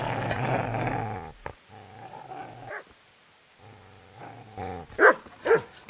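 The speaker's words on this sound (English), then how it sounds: "Get away, you mutt!" A dog in the medieval game Kingdom Come: Deliverance growls low and continuously, pauses, then lets out a few sharp close barks at the end.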